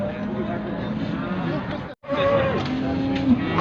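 At a livestock bazaar in Taraz, cattle low in drawn-out moos amid background crowd murmur, with a brief gap in the middle and someone talking over the scene.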